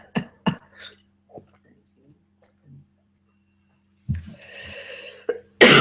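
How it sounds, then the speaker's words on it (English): In a quiet meditation retreat room, a person gives two sharp coughs in quick succession near the start. Scattered faint sounds follow, then a stretch of rustling and a loud burst at the very end. "That cough wants to come out."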